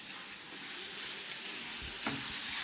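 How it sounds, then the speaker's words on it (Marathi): Green chillies and finely chopped garlic sauté in a pan for a Goan Saraswat tiny-prawn bhaji. The oil sizzles and hisses steadily at close range, with a faint stir near the end and no talking. "ती पण आपण छान परतून घेतोय."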